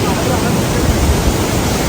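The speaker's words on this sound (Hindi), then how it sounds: "ये पानी देखें कितना तेज आ रहा है।" Fast stream water rushes loudly in a valley in Azad Kashmir, heard as a dense, constant roar close by, with possible wind noise blended in.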